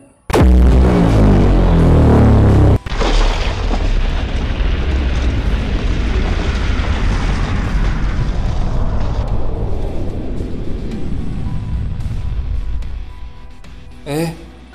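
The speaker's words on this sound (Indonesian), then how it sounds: "Raja Pedang pun juga turut melepaskan tembakan energinya." A loud, deep energy blast from the Sword King in an animated fantasy battle: a heavy booming impact that gives way to a long rumbling roar, slowly fading over many seconds, with a brief flare near the end.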